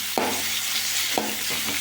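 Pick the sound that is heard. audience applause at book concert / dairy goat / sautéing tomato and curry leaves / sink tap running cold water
sautéing tomato and curry leaves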